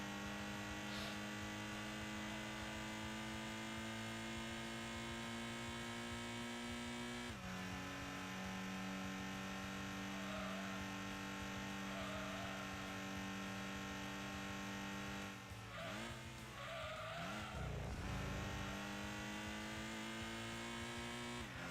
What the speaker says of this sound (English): I can already hear better engine sounds out of this thing.